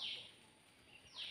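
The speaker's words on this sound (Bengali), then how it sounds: "প্রচুর পাখির ডাক শুনতে পাবেন, আর তার সঙ্গে ঝিঝি পোকার শব্দ" Two bursts of bright bird chirps at the start and end, with a thin, steady high-pitched cricket trill running underneath in a quiet Dharagiri forest setting.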